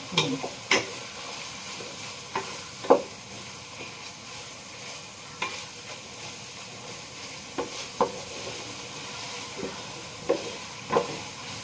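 Onions fry in a pan as they are stirred toward browning, a soft continuous sizzle with occasional scraping clicks from the utensil, close and moderately loud.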